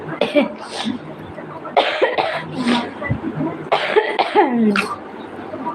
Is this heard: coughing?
yes